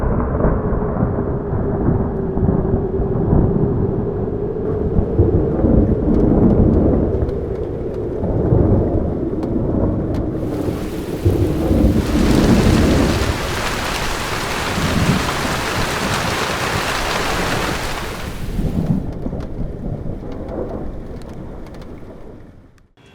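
Thunderstorm over the hills around Vellore, with steady heavy rain pouring close by and low rolling thunder rumbling through, the downpour swelling to a harsher hiss midway; no voices.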